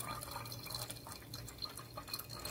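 Pineapple water poured from a bottle, a continuous close splashing and trickling of liquid that lasts throughout, fairly quiet and with no talk.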